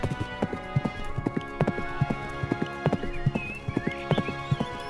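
Horse hooves clip-clop in a steady galloping rhythm, close and distinct, with an occasional whinny, as a prince rides off on his horse in a Hindi cartoon moral story, set over background music with no talking.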